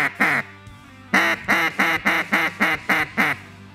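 Loud quacks from a Sure Shot Yentzen One Squared duck call, a single call followed by a pause and then a steady run of eight evenly spaced quacks, close and alone with no talking.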